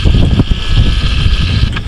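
Strong sea wind on a trip to Mt. Pico de Loro, roaring and buffeting the microphone in a loud, steady rush with no speech over it.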